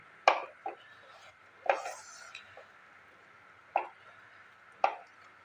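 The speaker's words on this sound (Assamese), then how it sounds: "এইদৰে ঘিখিনি দি ভালদৰে আকৌ এবাৰ মিলাই লওঁ।" A spoon stirs a sweet Assamese mithai mixture with a spoonful of ghee in a kadai, giving a few separate scraping, clattering strokes against the pan with quiet gaps between them.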